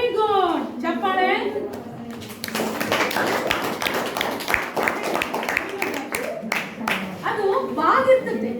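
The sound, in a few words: classroom clapping for a student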